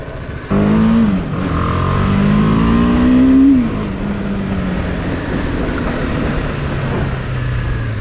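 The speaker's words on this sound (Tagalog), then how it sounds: "test ride na natin tong BMW G3 10R." A BMW G 310 R motorcycle on a test ride: its engine revs up and climbs in pitch, dips at a gear change, pulls again, then settles into a steady cruising drone with wind rush, close and loud throughout.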